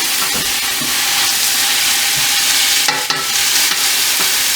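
Food frying in olive oil in a pan during home cooking of kidney beans, a continuous close sizzle and hiss with occasional stirring clinks.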